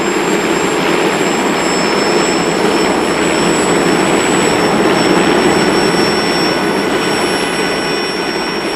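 Tip-jet driven helicopter rotor with small jets at the blade tips, a loud, steady jet roar with a high whine, unbroken throughout and with no talk.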